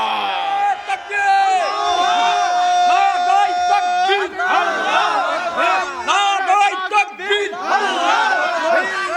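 At an Islamic sermon gathering, a large crowd chants the Allahu Akbar slogan in loud, repeated unison shouts that swell and fall across the gathering.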